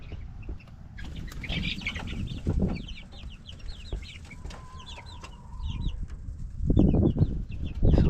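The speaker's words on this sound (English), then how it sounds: "these birds are just getting some water" Chickens in a farm coop make soft clucks and scattered chirps at moderate distance, with brief rustling and wing flaps, while the birds stop at their water.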